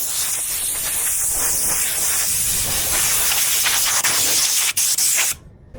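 Spray gun applying varnish to large flat panels, a loud steady hissing spray held continuously for about five seconds, with short breaks near the end before it cuts off.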